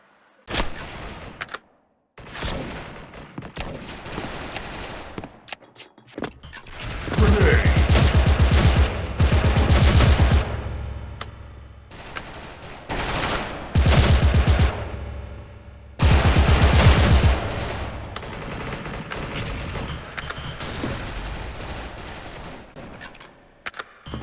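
A gun in the online shooter Special Force fires rapid, loud bursts in several long stretches, separated by brief pauses and single sharp shots.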